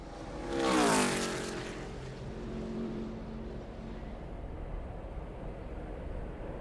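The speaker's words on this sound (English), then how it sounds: "You see Joey Gase in the 35 car here entering turn 1 now." A No. 35 race car driven by Joey Gase enters turn 1 at Pocono, roaring past close by in a loud swelling sweep that peaks early, then fades into a steady distant engine drone.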